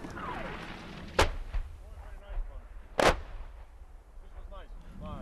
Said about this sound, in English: The artillery shells begin to land.